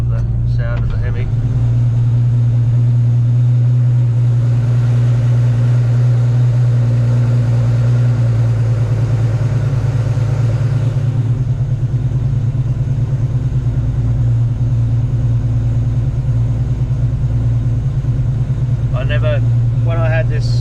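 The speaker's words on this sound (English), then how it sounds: "we all love the sound of the HEMI" A Dodge HEMI V8 in a VJ Charger idles inside a shed for its first start, a loud, steady low rumble throughout with a slight rise partway, and a voice speaking over it.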